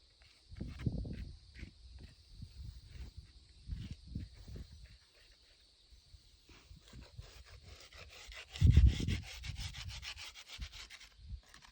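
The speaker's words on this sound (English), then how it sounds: "So I'm just going to take my scraper and just gently go over the stone and try to lift those off." Scraper gently rubbing lichens off a church cemetery headstone: repeated short scraping strokes, close and uneven, with a louder burst of scraping near the end over a faint steady background hiss.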